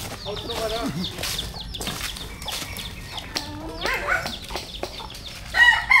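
A rooster crows and chickens cluck close by in a few uneven bursts, with people talking in the background.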